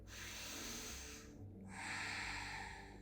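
Slow, deep inhalation through the nose during a vinyasa flow yoga class on mats, a soft airy rush that swells, pauses briefly, then draws in again, close and quiet.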